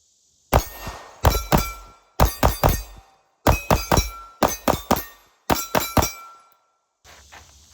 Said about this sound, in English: First shots after zeroing the optic, AB Prototype.